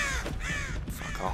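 Crows cawing in the Dead by Daylight video game, harsh repeated caws from several birds, loud and close, overlapping across a short burst.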